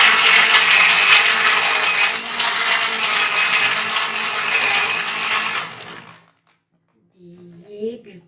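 Blender crushing ice cubes into mixed fruit juice, a loud harsh whirring grind running steadily for about six seconds before cutting off abruptly, followed by a few faint clinks.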